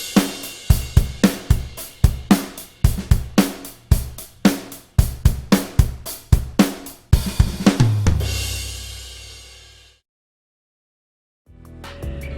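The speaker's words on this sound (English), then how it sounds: "Here, I made a drum loop and it sounds like this." Programmed drum loop with steady kick, snare and bright hi-hat hits in a driving repeating rhythm, ending on a crash that rings out and fades, then a short silence before a hit returns.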